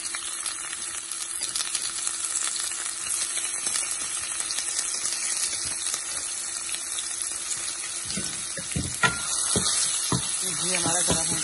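Onions and spices such as cinnamon, fennel and black pepper fry in hot ghee, giving a steady bright sizzle and hiss throughout, with a few clinks and stirring knocks toward the end.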